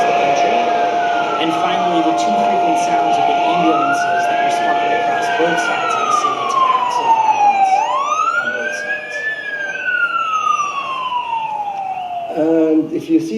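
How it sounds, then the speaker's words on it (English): The Israeli National Days of Remembrance siren is a long, loud wail that rises and falls in slow sweeping arcs. It carries continuously over faint background noise. "This now is the siren that marks National Days of Remembrance in Israel"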